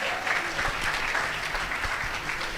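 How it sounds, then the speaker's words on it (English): Loud, steady applause from an audience at a college convocation ceremony, greeting the guest of honor, an architect and professor; dense, continuous clapping holds throughout with no voices standing out. "Can we hear a loud applause for him?"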